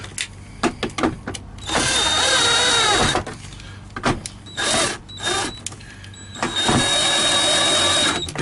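A power drill in a home repair after a tripped circuit runs in several bursts, starting and stopping with short whirs and longer steady runs, close and loud, with clicks between the runs and no speech.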